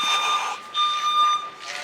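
High electronic tones beep in short repeated pulses alongside a scraping, ripping sound like tape being pulled, with a voice briefly underneath.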